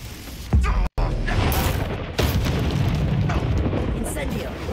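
A Confringo blasting spell explodes in Hogwarts Legacy, a loud booming burst that erupts abruptly, then rolls on in a dense rumbling roar for several seconds with a brief cut partway through.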